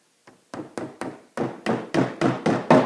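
A hammer drives nails into an IKEA wall cabinet during assembly, with about ten sharp, close wooden taps in a quickening, increasingly forceful rhythm.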